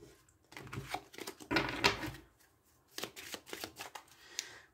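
Tarot cards shuffled in quick bursts of riffling and flapping, close and fairly quiet, with short pauses between passes.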